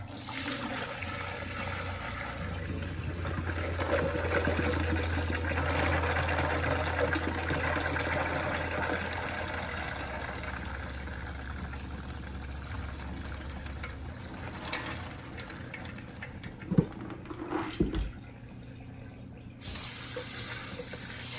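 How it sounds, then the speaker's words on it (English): Soaked beans are drained and a pot is refilled with fresh water at a home kitchen sink, giving a steady, fairly loud rush of running water that lasts most of the time, then a few clunks and a brief pause before the flow resumes. "I'm going to drain these now and put them to boil with fresh water"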